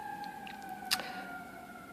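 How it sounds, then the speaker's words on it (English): Distant sirens wail far off, heard as a faint, steady tonal drone with a brief brighter burst partway through, no voices. "the sirens are going off there. You hear that?"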